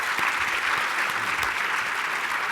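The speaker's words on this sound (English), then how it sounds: "will you join me in a round of applause for our panelists?" Audience applause for panelists at the close of a defense forum session, a dense steady wash of many hands clapping throughout at a constant loud level with no talk over it.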